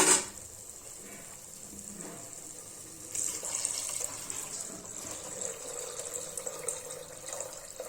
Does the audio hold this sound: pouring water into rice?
yes